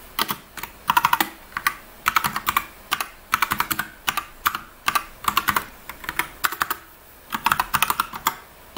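Close, clear keystrokes on a computer keyboard as an IP address is typed, coming in quick bursts of several taps separated by short pauses, with no talking.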